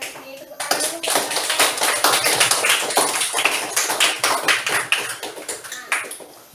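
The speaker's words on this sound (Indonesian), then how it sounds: "Terima kasih Tari dan Sini. Tepuk tangan dulu" Classroom applause from schoolchildren for two students, Tari and Sini: a burst of many small hands clapping rapidly and unevenly, loud and near, carrying on for several seconds before thinning out at the end.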